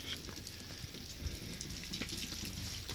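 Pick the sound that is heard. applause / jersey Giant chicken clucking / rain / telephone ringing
rain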